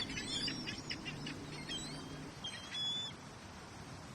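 Ducks and other birds in a park, with several short quacks and chirps scattered across the clip, fairly quiet and close, over a soft outdoor background with no talk.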